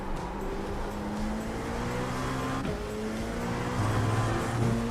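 The engine of a race car in a racing video game drones steadily with layered whining tones, fairly loud and continuous, with a slight rise in pitch near the end.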